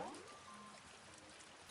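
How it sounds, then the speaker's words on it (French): Rain falling outside in a steady, soft hiss that stays fairly faint and even throughout, with no voices over it. "La pluie tombe encore plus fort."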